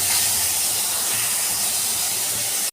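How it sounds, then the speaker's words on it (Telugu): Green chillies fry in two spoons of hot oil, giving off a dense, even hiss that holds steady and close with no talking until a brief cut near the end. "ఆయిల్ 2 స్పూన్స్ వేసి పచ్చిమిర్చి బాగా వేగాలి"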